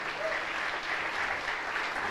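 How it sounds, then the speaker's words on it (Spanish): A church congregation claps together in praise, a steady wash of applause from many hands, fairly soft and sustained throughout. "Aplauda al Señor por eso en el nombre de Jesús."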